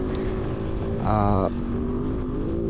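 A Kove 450 Rally motorcycle riding along a dirt track under a transmission line, its engine droning steadily nearby and briefly rising in a revving surge before settling back, with faint talk at the start.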